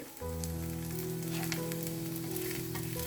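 A rava breakfast dish roasts on a hot pan, giving a steady close sizzle that kicks in sharply after a brief quiet start and holds evenly over a low stove hum.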